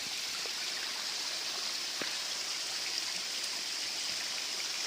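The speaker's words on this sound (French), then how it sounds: "Donc voilà la cascade." Steady rushing roar of falling water, constant and broadband, with faint splashes and drips throughout and no voices.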